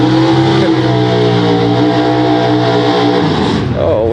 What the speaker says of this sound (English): Old school Corvette here in the right lane.